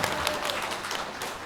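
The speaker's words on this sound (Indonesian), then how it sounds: "Tepuk tangan buat ibu." A crowd applauds for a mother at a family celebration, a short burst of dense clapping at moderate volume.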